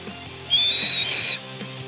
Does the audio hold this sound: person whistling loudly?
yes